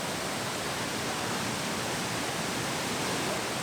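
Roaring Datanla waterfall in Dalat, a steady, loud broadband rush of falling water that stays constant and unbroken throughout, with no voices.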